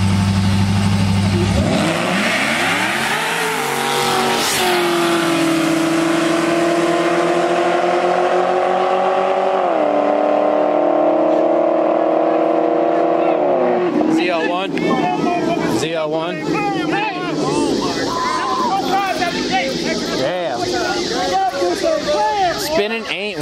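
A Camaro ZL1 fifth-gen and a Cadillac CTS-V launch and accelerate hard in a street race, engines roaring loudly through rising gear pulls before receding into mixed road noise, with people talking and shouting over it.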